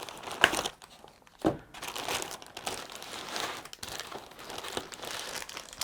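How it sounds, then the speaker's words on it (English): Plastic and paper packaging crinkles and crumples as it is pulled away from a Zotac Magnus barebone mini PC, with sharp close rustling bursts at the start followed by steady handling noise. "Let's take away the packaging stuff, put that away"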